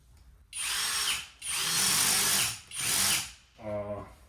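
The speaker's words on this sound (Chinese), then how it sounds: "咱们打个螺丝看看效果怎么样？" A handmade revolver-style lithium cordless drill drives a screw into a block of wood in three loud whirring bursts with short pauses between them, followed by a brief lower grinding rattle as the bit finishes.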